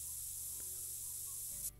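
A spray can releases a continuous loud hiss in theHunter: Call of the Wild while bowhunting lions, holding steadily before cutting off abruptly near the end.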